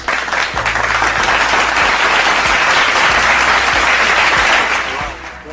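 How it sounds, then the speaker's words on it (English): Rousing applause from a seated audience welcoming a guest, dense continuous clapping that holds steady and then tapers off at the end. "we'll give them a rousing applause to welcome them"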